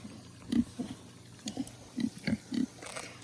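A pet pig grunts close by in short, low bursts, about seven quiet grunts spaced irregularly over a few seconds.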